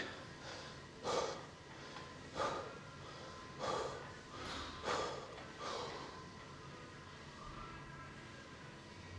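Heavy breathing of a person catching their breath after a hamstring workout, with about six slow, regular exhalations heard close and alone over faint background hiss.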